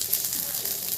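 A steady, soft hiss of something shallow-frying in oil in a pan, heard as a close, continuous sizzle.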